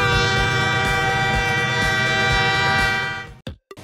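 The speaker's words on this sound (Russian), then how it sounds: "Это поезд метро." A metro train roars past steadily with a rhythmic clatter of wheels, then the noise drops away abruptly at the end.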